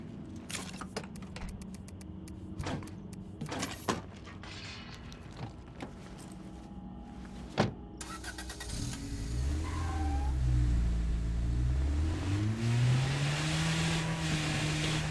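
Vehicle driving in a zombie survival video game, chosen for its faster speed over a truck: scattered clicks and knocks give way to a loud, rising engine drone and revving that builds steadily near the end.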